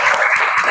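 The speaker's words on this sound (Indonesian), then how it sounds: "Ya, tepuk tangan dulu buat kalian." Students applaud in a classroom, a short burst of steady clapping at even loudness.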